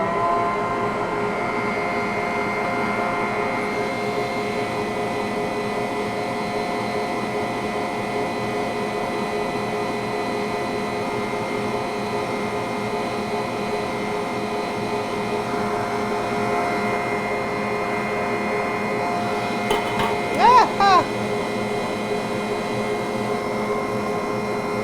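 A Bosch Universal Plus stand mixer whips a large batch of mashed potatoes with butter, a steady motor whir running evenly throughout, with a brief clatter near the end.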